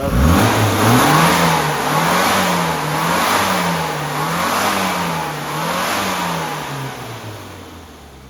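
A carbureted motorcycle engine, freshly tuned with a new needle and standard airbox, revs repeatedly up and down in a steady rising and falling pattern, loud and close with no talking.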